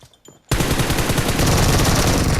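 A PP-19 Bizon submachine gun in PUBG Mobile opens up after a brief quiet moment, firing one loud, continuous rapid burst that lasts to the end.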